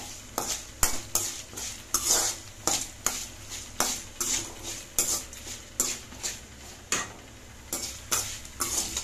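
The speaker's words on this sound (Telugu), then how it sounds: "అవి దోరగా వేయించేస్తుందండి" Food fries in a pan until golden, with rhythmic stirring and scraping of a spoon against the pan in regular strokes over a soft sizzle, close by and with no talking.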